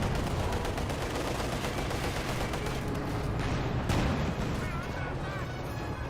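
Dense continuous gunfire and artillery from the video game Company of Heroes 2 battle, a loud unbroken barrage of crackling shots and booms throughout.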